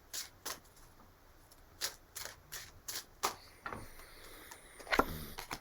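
A deck of tarot cards being shuffled in quiet, crisp riffling bursts, close by, with short pauses between shuffles.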